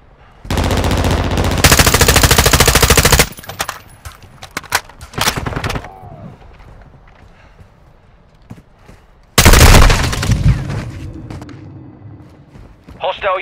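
Loud automatic gunfire in Call of Duty MW2, coming as two long sustained bursts with scattered single shots between them, and game voices talking around the fire.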